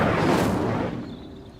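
The Incendio fire spell from Hogwarts Legacy being cast, a loud whooshing burst of fiery energy that peaks quickly and then trails off into a fading rumble, heard alone without speech.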